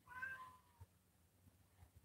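A cat named Sandy meows once, a short, faint rising cry from a little distance, as if asking to be let in, followed by quiet room noise with a few soft knocks.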